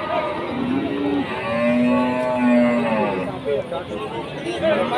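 Cows lowing loudly in long, drawn-out moos, one after another, with faint crowd chatter in the background, at a cattle market in Jaken, Pati.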